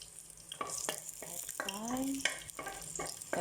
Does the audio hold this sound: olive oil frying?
yes